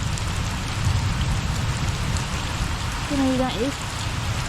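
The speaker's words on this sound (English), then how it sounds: "Probably the heaviest downpour we've had" A heavy downpour hammers steadily during a storm, dense and loud throughout, while a person speaks briefly over the rain.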